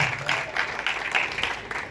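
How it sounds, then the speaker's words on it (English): Audience applause at a school inter-school reading quiz, a steady two-second stretch of many hands clapping at close range, dense and even with no pauses, with a faint trace of voices underneath. "let's give them a round of applause."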